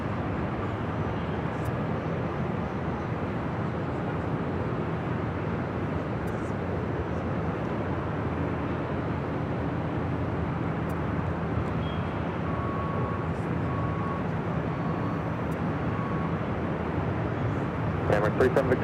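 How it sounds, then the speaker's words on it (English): An Emirates Airbus A380 takes off from LAX bound for Dubai, heard as a loud, steady, broadband jet roar that holds for the full length at a distance, with a few faint ticks and no clear talking. "This is Emirates Flight 216 taking off to Dubai on the A380."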